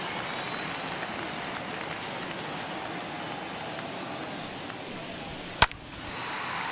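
In a Braves versus Phillies baseball video game, the stadium crowd gives a steady, moderate roar of cheering and noise, and one sharp crack stands out near the end.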